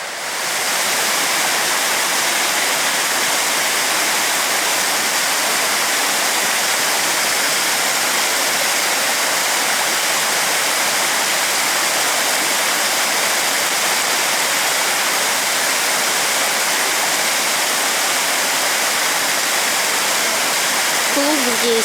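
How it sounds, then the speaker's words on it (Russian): The lower waterfall of the Polkovnichy waterfalls roars as a loud, continuous broadband rush of falling water, unbroken and close for the whole stretch. "Ну, это нижний водопад."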